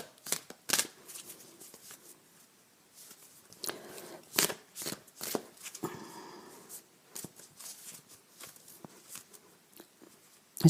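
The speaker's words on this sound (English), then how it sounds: "Just a reshuffle to bring up new energies" A deck of cards being reshuffled by hand, quiet crisp riffles and flicks in short bursts, close and alone, with brief pauses between shuffles.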